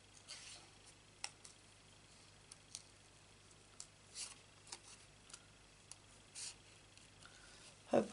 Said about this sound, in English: just to move your paper rather than your scissors